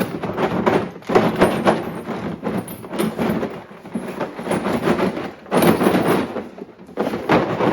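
Rattling clatter of a mechanic's tool set in a plastic case being shaken hard, loose sockets and bits knocking about in rapid bursts with a couple of brief pauses between shakes.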